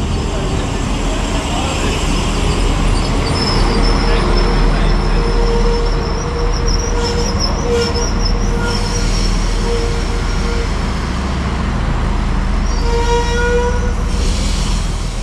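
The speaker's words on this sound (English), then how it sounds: "here we can take a look at the arrival of my train, which is now arriving from Poland" A PESA 214M (SA135) diesel railcar on a service from Poland pulls into Görlitz station, its engine drone and rolling wheels rumbling steadily close by, with brief squeals and higher tones rising near the end.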